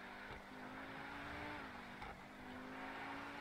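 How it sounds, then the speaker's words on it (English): A Lamborghini Zerouno in GTA Online with an aggressive, loud exhaust holds a steady engine drone with a slight pitch shift midway, heard faint and continuous without talk. "It's very angry exhaust sound, so it sounds loud and I love it."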